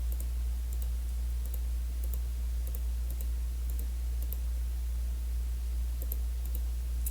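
Keys are tapped on a calculator while an expression is entered during a calculus lesson, producing sparse, light clicks in irregular rhythm over a steady low hum, faint and with no talking.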